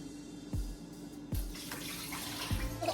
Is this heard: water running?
yes